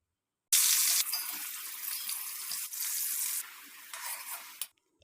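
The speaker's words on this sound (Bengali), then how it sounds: "তো এখানে আমি আলুটা ভেজে নেব" Potatoes frying in hot oil for chicken biryani: a loud, sudden sizzle when they go into the pan, settling into a steady close crackling hiss with a few small surges before it fades.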